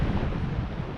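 Strong, gusty wind at Lilstock on the Bristol Channel coast buffets the microphone with a constant loud rushing roar, and the sea may sit faintly underneath.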